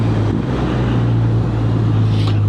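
A BMW R12 GS motorcycle on Metzeler tyres leans through a run of corners, its engine a steady, loud drone with a strong low hum, mixed with wind rush and no talk.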